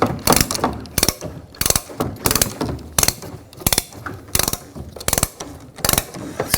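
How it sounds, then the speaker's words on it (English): A spare tire carrier on a Chevrolet Express 3500 van being lowered with a ratchet, giving steady repeated clicks in quick rhythmic bursts, close and fairly loud with no talking. "as you ratchet it, you should hear and see your spare tire drop down."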